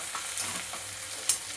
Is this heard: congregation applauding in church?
no